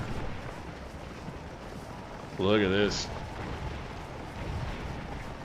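Cannon fire in the Civil War game Scourge of War Antietam comes as a low, steady rumbling boom under a voice, with a short tonal game sound cutting in briefly.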